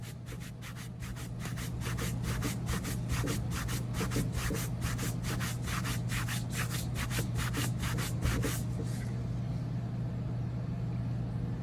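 Lint-free rag rubbing over an embossed gel finish, a rapid series of close rhythmic scrubbing strokes over a steady low hum, easing off near the end.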